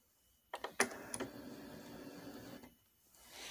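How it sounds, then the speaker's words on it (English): Cricut cutting machine scanning registration marks on a printed card sheet, a short burst of clicks and mechanical whirring lasting about two seconds, quiet and close, with no talk. "the machine will kind of like send a beam of light out and it'll read all those so it knows where it needs to cut"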